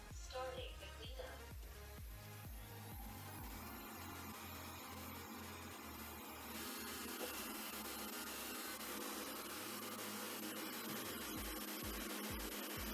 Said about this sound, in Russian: Пылесос сканирует комнату нашу.